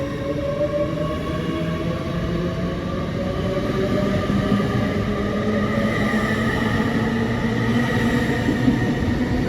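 A Great Western Railway train departing Reading station, a steady loud rumble with rising tonal hums from the traction motors as it pulls away, no voices.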